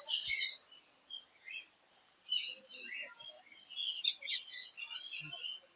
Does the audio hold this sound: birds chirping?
yes